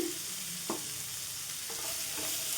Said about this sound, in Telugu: ఈ విధంగా సాల్ట్ పసుపు వేసేసుకొని మొత్తం కూడా కలిపేసుకోవాలండి